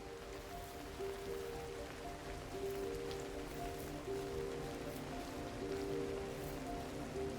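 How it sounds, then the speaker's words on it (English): Steady video game rain patters on a surface, a dense even hiss of drops alongside a faint low tonal hum, continuous throughout with no voices. "And it's raining again."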